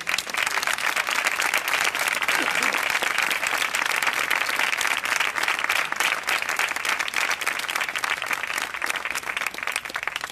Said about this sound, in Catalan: demano un fort aplaudiment per ells